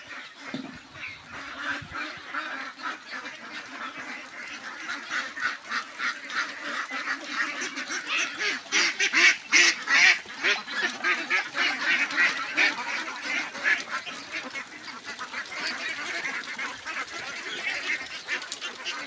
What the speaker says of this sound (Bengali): খুব শখের হাঁসের খামার এটা